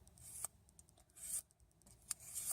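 Honing blade rubbed along a scissor blade in about three separate strokes, each a close, dry, scraping hiss of metal on metal.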